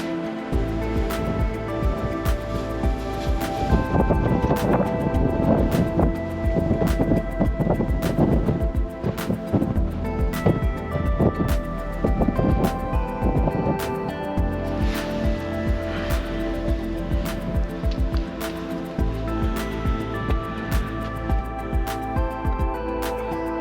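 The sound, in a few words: strong wind on mountain summit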